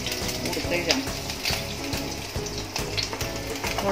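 Green chili frying in hot oil in a pan while cooking paneer chili, giving a steady sizzling crackle with faint stirring clicks and speech heard quietly underneath.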